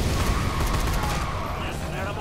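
Dense assault rifle gunfire in Dead Rising 3, a continuous crackle of rapid shots over a steady din for a couple of seconds.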